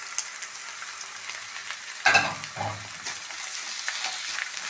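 Soya chunks and egg sizzle quietly in a pan, a soft continuous frying hiss. Stirring scrapes come through, with a sharp clatter around the midpoint and a few lighter knocks after it. No one speaks.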